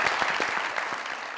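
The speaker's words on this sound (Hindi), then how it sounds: "तालियां।" A short burst of studio audience applause on a comedy talk show, dense clapping heard up close for about a second and a half.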